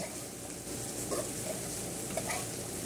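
Pieces of chicken simmering in coconut milk are stirred in a pot, with a low, soft bubbling sizzle and occasional scrapes and clicks of the spoon, fairly quiet and continuous.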